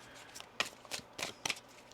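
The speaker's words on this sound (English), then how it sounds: "One more shuffle here." Tarot cards shuffled by hand in a quiet room, giving a few short papery riffles and flicks spaced irregularly, close and soft with no voices.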